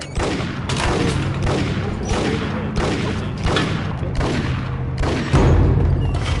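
Repeated heavy shotgun blasts from the game Max Payne boom in a steady run of loud reports about every half second to second, with a denser burst near the end and no talking.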